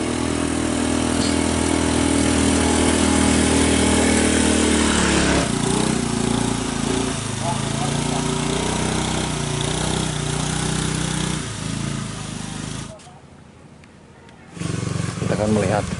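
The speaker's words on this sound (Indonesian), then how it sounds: "Oh, ada motor sahabat ya." A motorcycle engine running outside a house in a Jampang Kulon village: a steady low idling hum, close by, with people talking over it, cutting out briefly near the end before returning.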